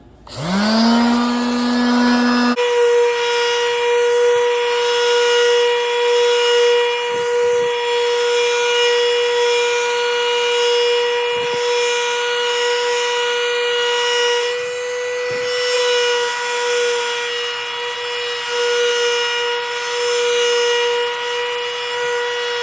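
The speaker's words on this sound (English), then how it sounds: "I'm going to be sanding the wood grain filler on the fingerboards" A power sander sanding wood grain filler on cigar box guitar fingerboards whirs up and then runs at a steady, loud, high-pitched hum the whole way through, with no one talking.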